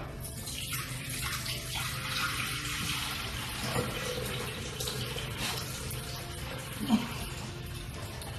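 Water runs steadily into a pot being filled for poaching eggs, a continuous splashing pour in a kitchen with a faint clunk near the end.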